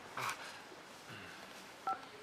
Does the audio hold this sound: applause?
no